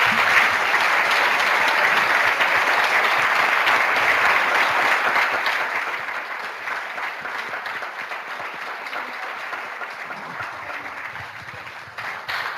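An audience applauds after a debate on artificial intelligence. The clapping is loud and continuous, then eases to a lighter, thinner patter toward the end.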